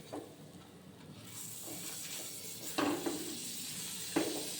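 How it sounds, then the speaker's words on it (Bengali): Butter paratha frying in butter in a pan, giving a steady close sizzle and hiss, with a couple of sharper spatters or utensil scrapes near the middle and end; no one talks. "এইভাবে বাটার দিয়ে এটাকে পরোটাটাকে ভেজে নেব"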